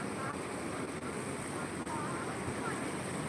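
Floodwater of the Purna river rushes over a submerged Kolhapuri-type weir, a steady broadband roar that stays even and unbroken throughout.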